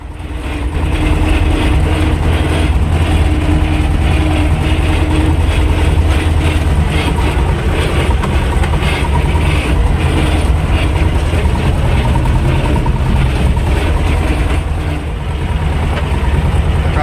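A T-25 tractor engine runs while driving out to discing work in the fields, a loud, steady, continuous drone with a heavy low rumble that holds unbroken throughout.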